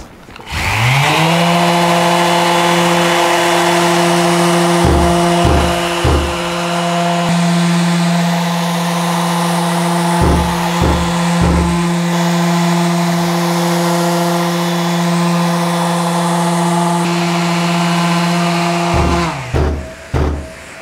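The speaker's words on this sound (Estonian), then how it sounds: "Ja nüüd siis lihvimine." A power sander whirs steadily with a strong droning hum, with brief dips and pulses as it presses against wood, then stops near the end.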